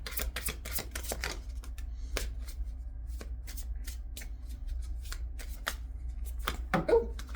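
Tarot cards shuffled by hand in a quiet room, a run of quick papery riffles and taps repeating in irregular bursts, close and fairly soft, with brief speech-like sounds near the end.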